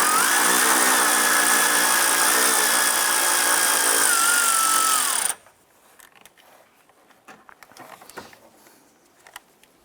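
Power tool whirs loudly and steadily while backing out a 10mm bolt on a Cadillac Escalade, then cuts off abruptly about halfway, followed by quiet clinks and handling noises.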